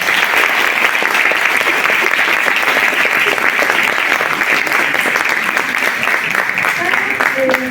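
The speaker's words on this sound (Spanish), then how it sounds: "les damos un fuerte aplauso" Audience applause fills a lecture hall at an academic talk on women of ancient Rome, a dense steady clatter of many hands that holds loud and even throughout with no voices over it.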